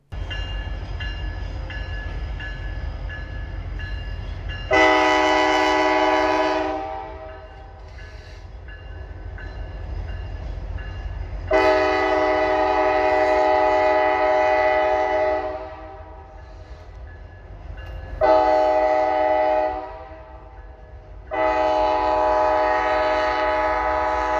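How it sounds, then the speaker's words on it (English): A train rumbles past steadily while its horn blasts several long, loud tones with gaps between them. "the train is so loud"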